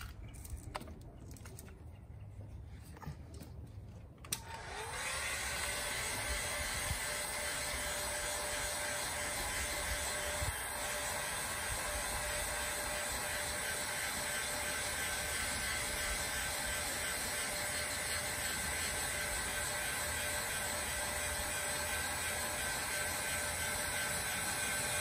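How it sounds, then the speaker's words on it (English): Heat gun blowing hot air onto the roof trim of a 2015 Chevrolet Camaro, a steady loud whooshing whine with a fan tone that starts after a few seconds of quieter handling and runs unbroken. "Let me see that heat gun, Dave"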